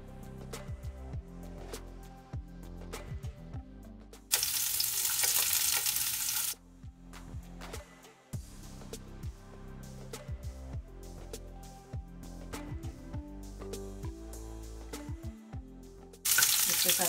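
Garlic and carrot frying in a pan on a stove, with intermittent clinks and scraping of stirring and two bursts of loud hissing sizzle, no talk.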